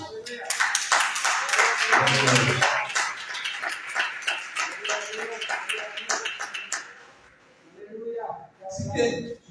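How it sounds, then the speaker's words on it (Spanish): Church congregation claps, a dense burst of applause mixed with cheering voices that gradually thins into scattered claps before a few people speak. "Aplausos a Jesús."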